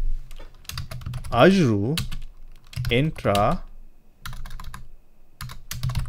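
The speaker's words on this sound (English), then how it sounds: "you can do this by going to the search bar and typing" Computer keyboard typing into a search bar in the Azure portal, heard as bursts of quick clicking keystrokes close by, alternating with a voice speaking.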